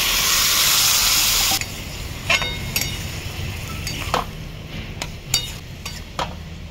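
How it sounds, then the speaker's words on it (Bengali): Boiled peas go into a pan of frying potatoes and spices: a loud sizzle at first drops sharply to a softer hiss, with several metallic clinks and scraping stirs following. "এবারে সেদ্ধ করে রাখা মটরটাও দিয়ে দেবো।"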